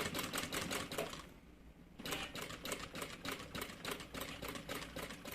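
A sewing machine stitching fabric for a trunk-style bag gives a faint, fast, rhythmic clatter that stops briefly, then resumes at the same quick pace.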